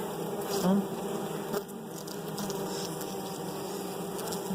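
Bees buzz in a hive during a split with a queen cell, a steady close droning swarm hum that holds without pause, with a brief louder swell near the start.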